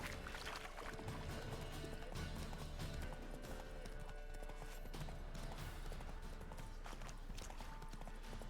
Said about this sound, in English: ¿pero por qué se pilla este caballo?